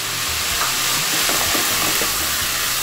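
Soy sauce and frozen cauliflower stir-fried in a hot pan for Bangladeshi chicken spring roll filling, giving a steady, loud, close hiss and sizzle with soft stirring scrapes and no talk.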